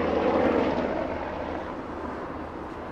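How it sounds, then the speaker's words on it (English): Helicopter passing overhead during a street walk near a bridge in Dartmouth, a broad droning rumble that is loudest at first and slowly fades as it moves away, with no talking. "And there goes that helicopter again."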